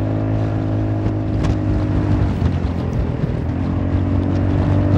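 A Honda Forza 350 scooter tuned with lighter variator rollers drones steadily while being ridden, a continuous loud engine hum with wind rush, holding a constant roar for the whole stretch.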